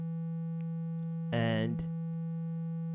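A steady, sustained synthesizer tone from a simple ambient pad patch in Reaktor drones evenly throughout, with a brief noisy burst partway through that sounds like a faint voice or breath.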